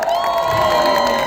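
A concert crowd at a live band show in Delhi cheers and whoops in a loud, sustained roar that fills the short clip, with scattered shouts and some clapping.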